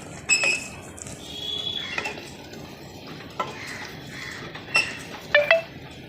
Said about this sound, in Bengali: এটাকে ভালো করে নাড়াচাড়া করে নেব। ভালোভাবে একটু কষিয়ে নেব।